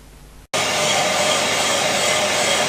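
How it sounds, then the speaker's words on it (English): Sunbeam engine block being bored on a CNC machine, a sudden steady loud broadband hiss and whir starting after a brief quiet moment and holding constant to the end. "we're boring away again"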